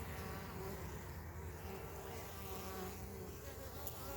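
Honey bees swarm around the entrance of a Langstroth hive fitted with a small entrance reducer. Their buzzing forms a continuous, even drone throughout, fairly close and with no talk over it.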